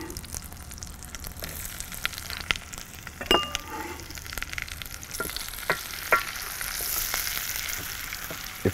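Onion and chives fry in butter in a pan with a steady, close sizzle, broken by occasional stirring taps and clinks; no one talks.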